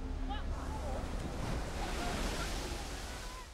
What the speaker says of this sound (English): On the shore, a massive wall of water is approaching fast.